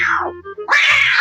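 A cat meows twice, a falling cry and then a sharper, brighter call after a brief low pause, close and clear with no talking.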